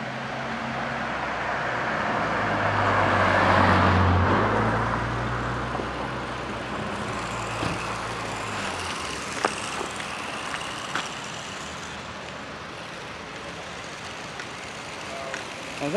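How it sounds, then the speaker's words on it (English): A car drives by on a street, its broad engine and tyre noise swelling to a peak and then fading away, with no talk over it. "Just wait for this car to go by."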